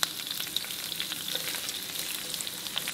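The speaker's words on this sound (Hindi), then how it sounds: "प्याज को लाइट गोल्डन ब्राउन होने तक आपने फ्राई करना है।" Onions frying in hot oil with curry leaves and green chillies, a steady close sizzle with crackling pops and occasional stirring.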